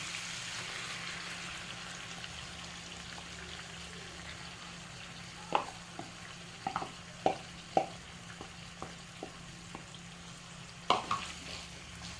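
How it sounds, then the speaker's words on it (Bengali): Chicken sizzles steadily in a pan as spice paste is added and stirred, a continuous hiss with a series of sharp spoon scrapes and clacks in the second half. "এবারে আমি পেস্ট করা মশলাটাকে এর মধ্যে দিয়ে দেবো।"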